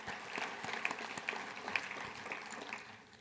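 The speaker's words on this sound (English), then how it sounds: "Let's give them all a round of applause," Conference audience at an APTA gathering in Washington applauds the senior staff, a dense, even patter of clapping heard from a distance that fades slightly at the close.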